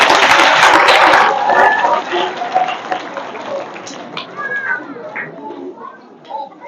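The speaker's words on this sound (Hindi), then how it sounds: "मैडम का स्वागत तालियों के साथ।" An audience welcoming someone speaker with applause that opens loud and dense, then fades into scattered claps and murmuring voices, with a few children's calls over the tail.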